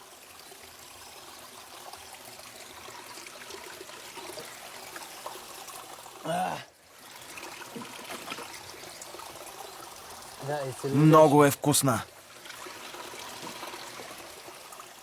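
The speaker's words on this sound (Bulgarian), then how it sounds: "Долу има течаща вода." A small stream runs and trickles steadily in the wild, a soft continuous wash close by, broken by a few spoken words and brief handling noises.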